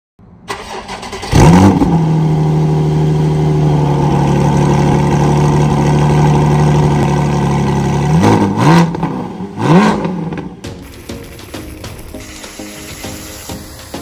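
Porsche GT4 with a new clutch, its engine roaring steadily under acceleration for several seconds, then dipping and surging through two quick revs before easing off; loud and close, with no talk.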